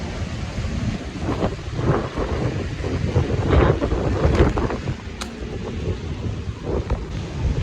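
Strong wind buffeting the microphone in heavy low rumbling gusts that swell and fade, with a faint patter like rain underneath.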